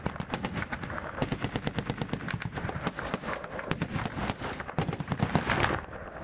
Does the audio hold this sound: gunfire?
yes